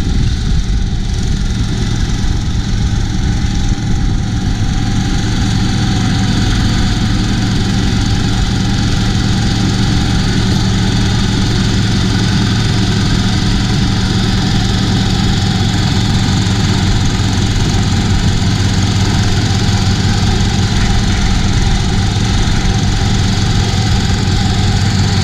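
An Allett UPLIFT86 rotary mower engine held at maximum revs, a loud steady drone with a strong low hum and constant vibration, unbroken and close for the whole stretch.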